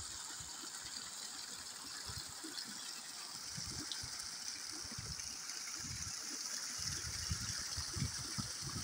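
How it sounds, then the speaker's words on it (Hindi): Steady flowing water in a Mughal garden, a continuous broadband wash running evenly throughout with low rumbling undertones and no voices. "पानी की आवाज़ जी बहुत खूबसूरत है"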